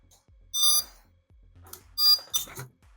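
Sharp, high-pitched low-battery beeps from a drone sound in short bursts, two or three clusters with quiet gaps between them, fairly close.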